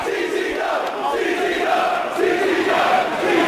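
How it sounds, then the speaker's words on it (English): Loud roar of a hardcore wrestling crowd at an indoor show, cheering after a vertical suplex, a sustained mass of voices that swells and surges with no announcer over it. "And the crowd reacts."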